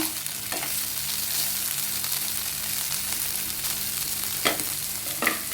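Dried anchovies, homemade, roast in a pan with a steady soft sizzle, punctuated by a few brief scraping stirs near the end, close and moderately loud with no talking.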